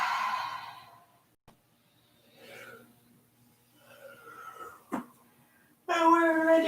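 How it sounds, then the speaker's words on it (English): A deep breath out during a kids' yoga session, a soft breathy exhale at the start, then quiet rustling and faint movement with low breaths, before a voice cuts in at the end. "deep breath out."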